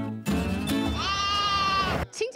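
A sheep bleats loudly and close by in a mountain pasture on a high-altitude trail, giving one long, wavering, nasal cry of about two seconds, followed by a brief voice.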